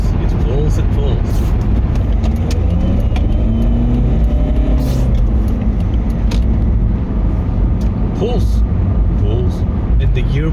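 A tuned, high-mileage BMW E46 with about 600,000 km accelerating on the road, a loud steady engine drone and road roar heard from inside the car throughout.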